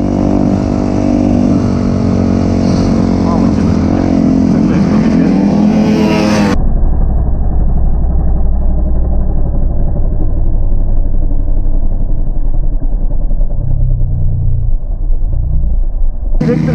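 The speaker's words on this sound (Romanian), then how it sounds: "să vedeți și voi cam cum este cu motocicleta pe zăpadă" A KTM motorcycle engine revs and roars loudly and continuously while riding on snow, the tone shifting partway through as the engine labors and settles into a lower drone.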